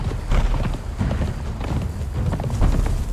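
A horse's hooves trot in Conan Exiles, a steady run of soft, thudding clip-clops on open ground, close and fairly loud with a faint wind-like background.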